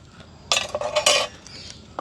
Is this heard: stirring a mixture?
yes